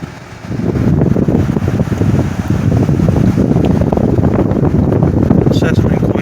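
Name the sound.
window air conditioner unit blowing air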